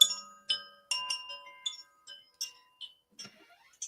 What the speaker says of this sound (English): I have these chimes.